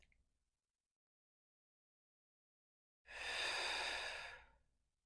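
A single long, slow exhale comes during a gentle yoga flow, a close, soft breathy sigh rising out of silence and tapering away.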